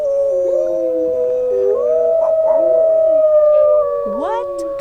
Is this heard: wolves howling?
yes